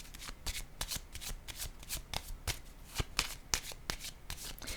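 Tarot cards are handled and laid down, a quick run of crisp riffling and flicking snaps in irregular bursts, close and fairly quiet, with no talk.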